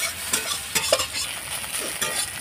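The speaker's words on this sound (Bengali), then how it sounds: "আর ডিমটাকে আমি ঝুড়ো করে নেবো, এইভাবে ভেজে ভেজে ঝুড়ো করবো" Two eggs fry and get broken up in a pan of oil, with a steady crackling sizzle and a few scraping stirs of a spatula, close and fairly quiet, no voices.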